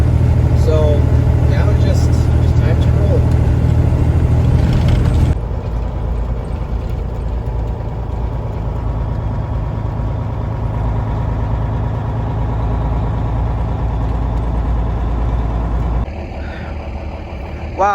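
A semi truck pulling a loaded stepdeck trailer of about 65,000 pounds rolls off on a windy Wyoming night, its steady low diesel rumble dropping in level partway through and droning on continuously up close.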